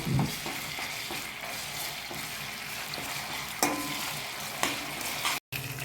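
Ginger garlic paste fries in a pan for fish curry, with a steady close sizzle and a few sharp spoon scrapes and taps against the pan.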